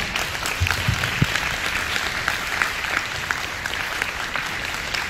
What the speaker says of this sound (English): I want you to give a big applause to Hoyoyinka.